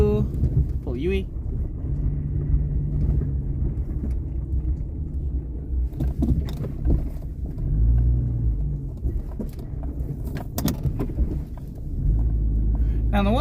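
Ford Capri car driving on after a U-turn, with a steady low engine rumble and road noise throughout and the pitch shifting as it moves. Someone talks over it now and then.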